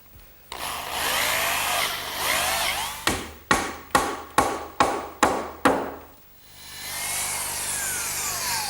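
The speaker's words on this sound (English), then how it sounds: "Now I'm just going to drill a hole down through the top and pin it with a dowel." A drill bores a hole down through the wooden top of an English garden bench with a rough, whining grind. It breaks into seven evenly spaced sharp knocks, then the grinding resumes close by.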